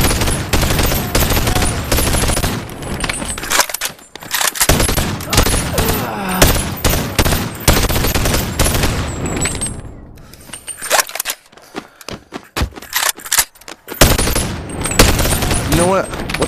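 Semi-automatic gunfire in the BoneLab virtual reality game, dense loud bursts of rapid shots with short pauses and people talking between the volleys.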